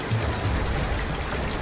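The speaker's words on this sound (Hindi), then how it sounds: "लगातार जोरदार बारिश मुंबई के अलग अलग हिस्सों में।" Heavy continuous monsoon rain falls across Mumbai in a steady, dense hiss that stays even and close for the whole short stretch.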